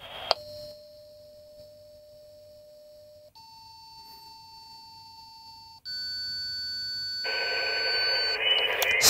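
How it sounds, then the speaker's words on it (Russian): An HF radio station receiving a selective call, heard as a series of steady electronic tones that step to new pitches, ending in a louder, harsher burst of noisy signal. "Вот, соответственно, сработал селективный вызов в стационарной радиостанции."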